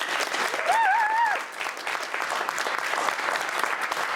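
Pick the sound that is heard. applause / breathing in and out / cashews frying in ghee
applause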